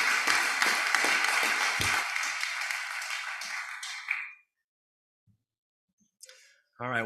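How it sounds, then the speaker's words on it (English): A round of applause at a city council meeting, many hands clapping briskly and densely for about four seconds before fading out, followed by silence and a few faint room noises and a brief voice. "I just want to give a round of applause to the coaches and parents that support these kids"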